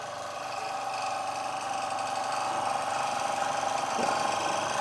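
A small oscillating-cylinder steam engine runs on a gas burner, giving a steady mechanical hum and rapid ticking with a faint whine, constant and close throughout.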